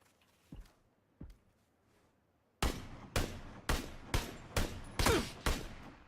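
Gunfire in a video game: two faint distant shots, then a louder series of about seven sharp cracks in a steady rhythm, with no talking.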